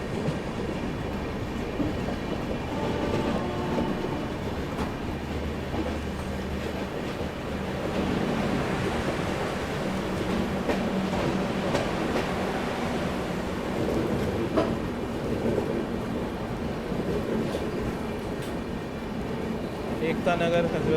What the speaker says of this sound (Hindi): ये है जी गुजरात संपर्क क्रांति